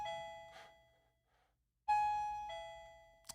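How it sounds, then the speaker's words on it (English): A doorbell rings indoors, a two-tone ding-dong chime sounding once, then again after a pause, clear and moderately loud with the tones ringing out. "Someone is ringing my doorbell."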